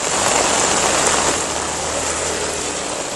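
Heavy rain pouring in Kerala, a dense, loud, unbroken hiss of falling water that stays even for the whole stretch with no voices.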